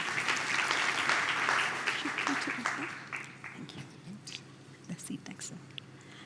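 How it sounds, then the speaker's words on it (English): A crowd at a launch event applauds loudly and steadily, the dense clapping fading after a few seconds into scattered claps and murmuring voices. "Please give him a warm round of applause"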